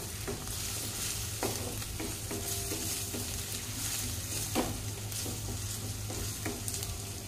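Chole masala being stirred in oil in a pan, a steady sizzle of frying with repeated scraping strokes of the spoon, close and continuous with no talking.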